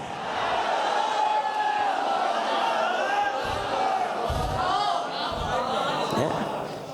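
A crowd chants a religious slogan in loud, sustained unison voices that carry across the whole stretch, with a rough, shouted edge and no pauses.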